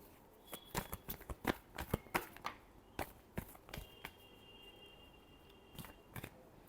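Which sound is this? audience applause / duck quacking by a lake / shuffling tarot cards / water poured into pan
shuffling tarot cards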